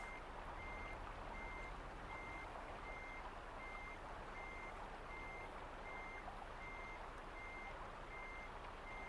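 A truck backs up in Euro Truck Simulator 2, its reversing alarm beeping steadily and evenly over a constant low engine drone, faint and at some distance.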